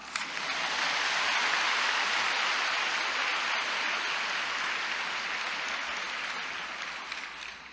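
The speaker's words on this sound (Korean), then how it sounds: "어쨌든 많은 위로의 박수 부탁드립니다." A church congregation gathered for a Friday Spirit-filled testimony service claps steadily in encouragement, a dense, sustained wash of applause lasting several seconds before it slowly tapers off.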